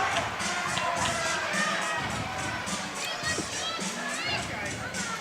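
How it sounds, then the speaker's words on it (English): Crowd at a boys' high school hockey sectional championship game in an arena, a steady roar of spectators with rising oohs and shouts from children and fans, continuous and fairly loud throughout. "The oohs and the ahs from the crowd are piercing."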